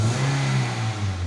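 A car engine revs smoothly after a misfire fix, a steady mid-pitched hum with a strong low drone held evenly throughout, close and loud, with no talking over it.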